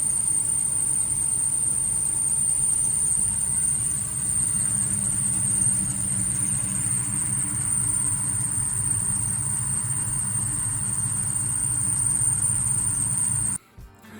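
A worn alternator on a car gives off a steady, high-pitched whine that holds constant for several seconds over a low idling engine hum, with no talk.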